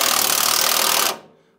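Seized part of a Lexus GX470 front differential spun close up, a loud steady whirring, buzzing mechanical rattle that cuts off and winds down quickly.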